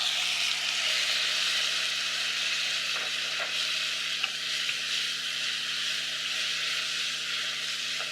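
Onions frying in a pot toward golden brown for Kenyan terere, a dense continuous sizzle with faint scrapes of stirring throughout, close and steady, no speech.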